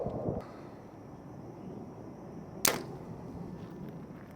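A Mathews Lift compound bow releases one arrow, giving a single quick, clean thwack over faint background hiss, with a brief low thump just at the start.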